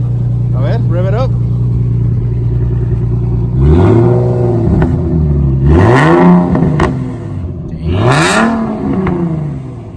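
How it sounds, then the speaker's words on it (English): Nissan 370Z engine revving, several sharp blips rising and falling close by after a steady idle, with people talking nearby. "rev it up"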